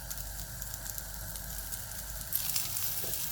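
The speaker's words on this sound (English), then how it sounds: "Should get a little bit of a sizzle in a minute" Meat frying in a hot dry pan with its fat rendering out, giving a steady close sizzle that thickens and grows slightly louder near the end, with no voices.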